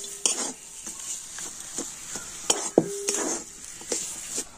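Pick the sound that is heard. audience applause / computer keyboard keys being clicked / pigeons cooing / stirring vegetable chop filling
stirring vegetable chop filling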